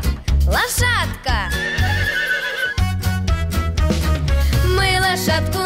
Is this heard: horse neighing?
yes